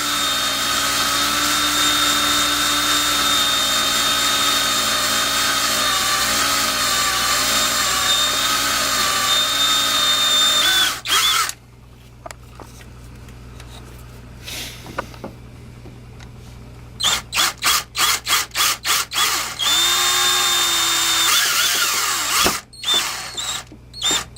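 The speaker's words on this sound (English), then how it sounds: "Using a bigger bit, drill the hole bigger to accommodate the size of the bolt." A power drill whines loudly and steadily with a larger bit as a hole is enlarged to fit a bolt, stopping partway, then restarting in short bursts and a final longer run.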